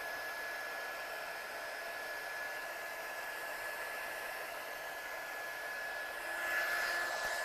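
A heat tool blows steadily over a paper collage to heat set it, a continuous even whooshing hiss with a faint high tone, close and unbroken, with no talk.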